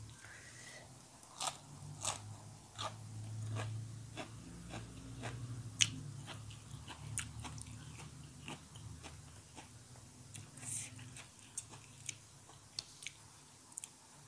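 Crisp fresh vegetables crunch between the teeth while mussel miang is eaten, a close series of sharp bites and chewing crackles repeating steadily over a quiet background, with no talking.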